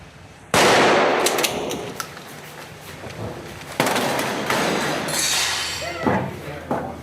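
Shotgun blasts fired by troops in Iraq, two loud sharp broadband reports, one at the start and another about three seconds later, each followed by ringing decay and background noise with faint voices.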